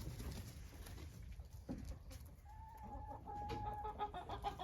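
A hen that is a cross between an ordinary hen and an Ameraucana rooster gives faint, soft clucks and coos in a quiet coop, with a few low calls against light background noise.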